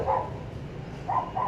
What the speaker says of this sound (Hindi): किसको भौंक रही है